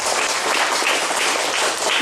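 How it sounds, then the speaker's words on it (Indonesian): A large congregation at an evening revival service in Waingapu, Sumba, claps together, producing a dense, continuous wash of applause that stays loud and even throughout. "Berikan tepuk tangan bagi Tuhan Yesus."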